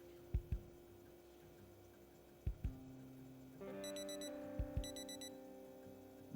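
A 7 a.m. alarm clock in the survival game Project Zomboid sounds two short bursts of rapid, high electronic beeping. Several soft thuds and clicks come before them over a faint steady hum.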